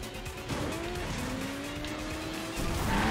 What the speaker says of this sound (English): The bike just taking down the car.